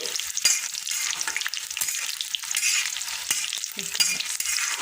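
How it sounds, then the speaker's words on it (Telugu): Dried red chillies frying in hot oil, a bright crackling sizzle with sharp clicks and scrapes as they are tossed in the pan, close and continuous. "కొంచెం నూనె కాగిన తర్వాత ఎండుమిరపకాయలు చక్కగా దూరగా వేయించుకుందాం"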